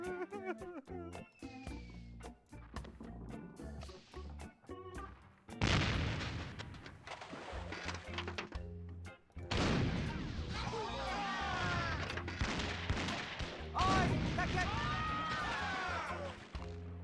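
Cannon fire and explosive crashes in the pirate adventure game The Curse of Monkey Island come as loud booming blasts around the middle of the stretch, mixed with game music and character voices.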